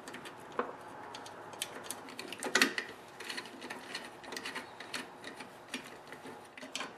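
A ratchet tightens the carburetor bolts on a Briggs & Stratton Quantum lawnmower engine, giving quiet irregular clicking and ticking bursts close by with small metallic clatters.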